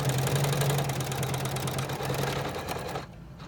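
A Janome embroidery machine stitches a starfish design onto a zipper pouch with a steady, close, fast mechanical hum that runs for about three seconds and then stops.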